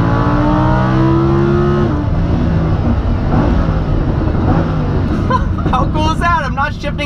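A sports car accelerates hard on a track while its automatic gearbox changes gears. The loud engine note climbs, then drops at a shift early on and keeps pulling, with a voice speaking over it toward the end.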